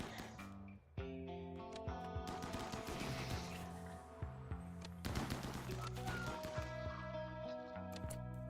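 Rapid bursts of gunfire from the colony sim game RimWorld, repeated shots layered over game music with sharp cracks and clattering impacts throughout, moderately loud and steady.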